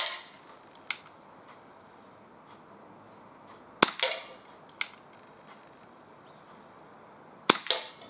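An Umarex CPS CO2 pellet pistol fired outdoors at a can, giving sharp isolated cracks spaced seconds apart, several with a quick second snap of impact, against a quiet background.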